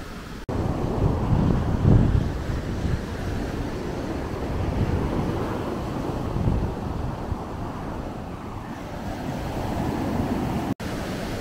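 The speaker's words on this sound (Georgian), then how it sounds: "მაგრამ ტალღები რო არის, მაგიტომ მეზარება ეხლა ნამდვილად ვერ გავრისკავ ტალღებში შესვლას" Sea waves break and wash along the shore in a continuous surging roar, mixed with heavy wind buffeting the microphone.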